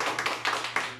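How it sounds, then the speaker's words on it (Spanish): A handful of separate, close handclaps land in an uneven rhythm at a Mother's Day mariachi youth concert, brief and sparse rather than a full ovation. "Y el aplauso bien bonito"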